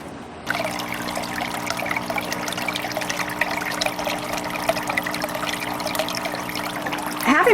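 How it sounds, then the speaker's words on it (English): Water trickles and splashes steadily in a coastal home garden's water feature, a continuous close babble starting after a brief quiet moment, with a low steady hum underneath and no talking. "Having water in a garden provides the sound and the sight of motion."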